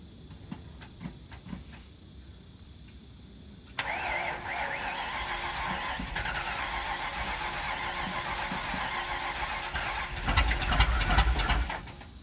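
A 1969 Ford Mustang Mach 1 with a leaking fuel tank starts after a few faint clicks, then idles with a steady rumble that swells to a louder rev near the end, heard from a short distance with insects chirping outdoors.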